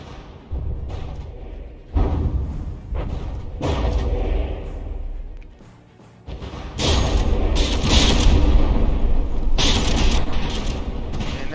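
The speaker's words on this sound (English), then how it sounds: "And now the barrage begins." Battleship guns firing a barrage in From the Depths, heavy booming blasts and grinding mechanical creaks that swell in bursts, dip briefly, then return in a louder sustained volley.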